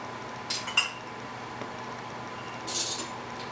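Cutlery clinks against a plate a few times while khichdi and kadhi are served, with a couple of quick bright taps and a longer scrape, heard up close in a quiet kitchen.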